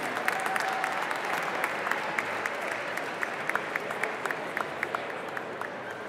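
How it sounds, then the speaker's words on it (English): Scattered applause from a gala audience at Cipriani Wall Street in Manhattan, a steady soft patter of many hands with a few sharper claps standing out, moderately distant and fairly faint throughout. "I hear some applause for that"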